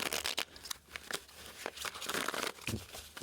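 Tarot cards being shuffled close by, a quiet run of crisp riffling and papery crinkling bursts with uneven timing.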